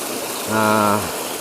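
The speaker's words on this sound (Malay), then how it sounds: "Tu air datang daripada perut bumi kot. Tu dia air yang turun." Waterfall water at Air Terjun Pt Kangkong, Bukit Mor, pours down in a constant, broad rushing hiss, with a brief voiced tone rising over it midway.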